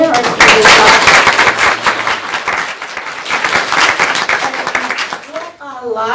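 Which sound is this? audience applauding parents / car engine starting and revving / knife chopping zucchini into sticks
audience applauding parents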